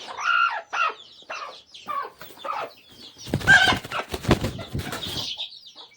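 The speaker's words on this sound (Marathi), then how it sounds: "इथं तुम्ही काळी कोंबडी बसली पिल्लं बघू शकतो" Hens and chicks on a village poultry farm cluck and cheep in short, irregular bursts close by, with a denser flurry of calls and rustling midway, with no one talking.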